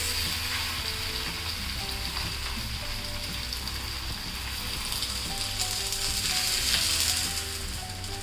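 Steady, close sizzling and crackling of a thalipeeth flatbread frying on a hot oiled griddle, continuous throughout with a low background hum.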